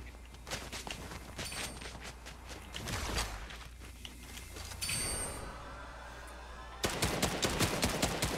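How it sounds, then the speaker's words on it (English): Gunfire in Fortnite, a no-build trios battle royale match: bursts of rapid shots, some distant and some closer, with footsteps and game sounds, heaviest toward the end. "they're shooting at me"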